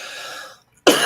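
A single sharp cough from a person with post-nasal drip, loud and close, following a brief stretch of quiet after fading background sound.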